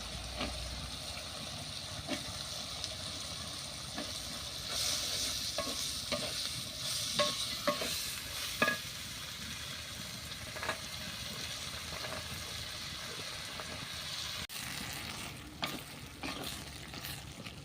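Potatoes frying in a pan with Malabar spinach flowers and shrimp, a steady close sizzle running throughout with occasional stirring scrapes and clinks.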